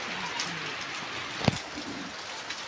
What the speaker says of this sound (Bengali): এই যে দেখো কত বৃষ্টি।